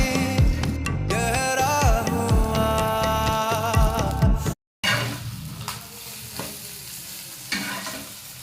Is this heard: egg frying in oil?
yes